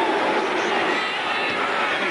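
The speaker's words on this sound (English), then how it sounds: "A very noisy Dallas crowd" A very noisy home crowd at a Dallas football stadium during a 1988 Redskins–Cowboys game roars in a steady, dense wash of voices, loud and continuous throughout.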